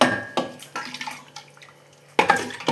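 Thick curry splashes and glugs into a pot in a few separate pours, with a faint metallic clink between them.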